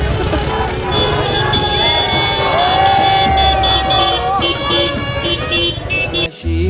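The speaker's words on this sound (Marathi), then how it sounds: "पाठी बघा फुल गाड्यांची रॅली झाली गाड्याच गाड्या" A Holi procession with a rally of vehicles sounds loud and close: horns honk and blare continuously over a busy crowd, with people shouting throughout and engine noise underneath.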